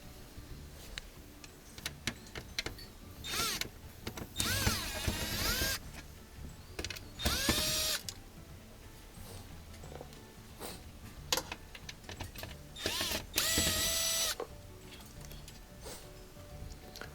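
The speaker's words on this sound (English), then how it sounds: "we have to get the controller off, and it's just got to remove those screws that hold it on." Screws being backed out of a car's console controller, heard as quiet scattered clicks and ticks with a few louder rasping bursts of driver turning, close up and with no talking.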